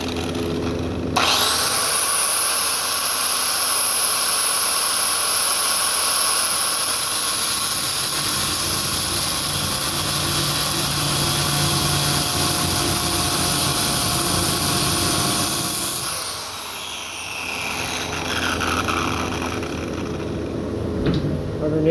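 Cutting wheel grinding slots down the sides of a steel tap, a loud sustained abrasive whine lasting about fifteen seconds before the tool drops off and winds down.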